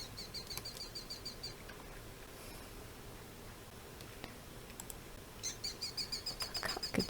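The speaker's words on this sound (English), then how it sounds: "Cockatoo." Cockatoo calls in a Minecraft zoo, heard as faint, rapid repeated chirps in two bursts at the start and end over a quiet, steady background.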